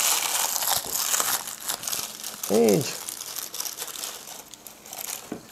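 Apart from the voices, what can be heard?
crushing wrapped crispy toasted bread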